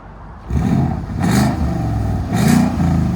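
A 2015 Ford Mustang GT 5.0L V8 fitted with a Valvetronic Designs exhaust, valves open, revs hard in three loud, close bursts over a deep, steady idle rumble, with no talking.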